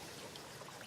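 Stream water tumbling over man-made cascades onto stones in a valley garden, a steady close broadband rush and splash without pause.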